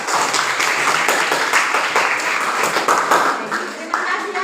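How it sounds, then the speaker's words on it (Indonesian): An audience of classmates claps for a group's presentation in a classroom, a dense, steady round of applause lasting a few seconds, close and fairly loud, with a voice speaking over it. "silakan berikan aplaus"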